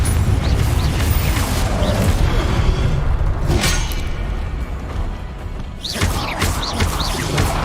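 Confringo fire-blast spell cast in the video game Hogwarts Legacy, a loud, dense rumbling blast with booming low end, a brief surge near the middle and another burst toward the end, with no talk.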